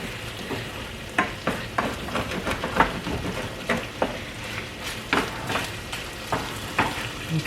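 Fried rice with vegetables sizzles steadily in a pan while a utensil stirs and flips it, making repeated sharp scrapes and clatters over the constant frying, close and moderately loud, with no speech.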